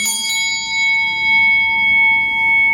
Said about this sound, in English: the sound of the bell is very potent as well